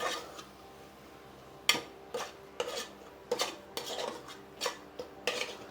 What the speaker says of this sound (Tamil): இப்போ நல்ல ஒரு கிளறி விடுங்க